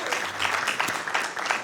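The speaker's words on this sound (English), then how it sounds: "I just want to acknowledge you and give you a round of applause" Brief applause at a Sacramento city council meeting, a dense burst of clapping from the chamber audience that holds steady through a short span.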